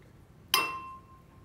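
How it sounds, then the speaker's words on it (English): A wine glass is struck once during a physics demonstration, giving a sharp clink that rings on as a clear, sustained pure tone and slowly fades, close and alone. "But if Katie, could you please hit the first wine glass?"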